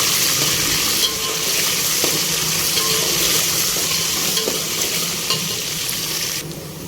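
Green chillies, curry leaves and a little chopped onion frying in hot oil, a dense steady sizzle with occasional scrapes of a stirring spoon, close and loud, fading slightly at the end, with no voices.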